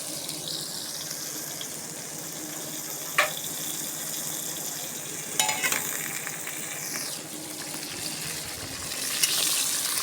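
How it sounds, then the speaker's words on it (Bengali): Chopped onions fry in hot oil in a pan, a steady, moderate sizzle with a few sharp clicks and scrapes from stirring. "কেটে রাখা পেঁয়াজগুলো দিয়ে দিলাম।"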